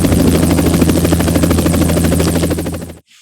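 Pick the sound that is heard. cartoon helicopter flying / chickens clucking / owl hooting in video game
cartoon helicopter flying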